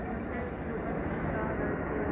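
Steady low rumble of a train running, continuous and fairly loud throughout, with a faint high hum above it.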